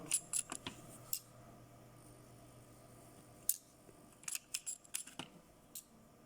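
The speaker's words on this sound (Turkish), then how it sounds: "Öncelikle ölçü aletimizi açalım." Plastic case of a DT830D multimeter being opened for repair, with a few sharp close clicks and snaps scattered between quiet pauses.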